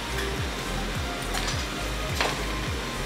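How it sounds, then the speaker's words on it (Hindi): Jackfruit being stirred and roasted with coriander powder, kasuri methi, red chili and garam masala in a pan, a steady sizzle with a rhythmic scrape of the spoon about every half second, alone with no talk. "ये सबको अच्छे से मैं मिला लूंगी और भून लूंगी"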